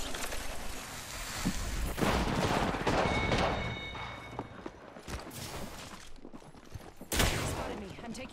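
Gunfire in a first-person shooter game, bursts of rapid shots and impacts mixed with footsteps and movement, loud and busy across the clip.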